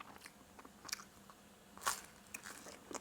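A steam-toasted croissant from a dedicated pastry toaster is bitten and chewed close up, with faint crisp crunches and crackles, one sharper bite standing out among the quieter chewing.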